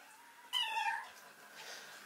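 A newborn Rottweiler puppy gives a single thin, high, kitten-like mew up close, a short cry followed by faint softer whimpering in a quiet room.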